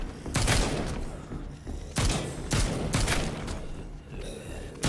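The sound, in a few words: gunshots in The Walking Dead Onslaught video game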